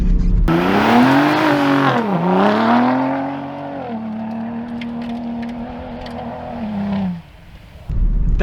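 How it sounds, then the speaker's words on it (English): A 2021 Ford F-150 Raptor downshifts into first gear while driving in snow, its engine note loud and close as revs climb, dip, and settle into a steady drone before easing off. "we can downshift into first gear and it's super smooth"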